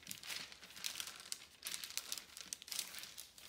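Parchment paper crinkling as hands press keto tortilla dough flat beneath it, several bursts of close, soft crackling rustles with short pauses between, no voices.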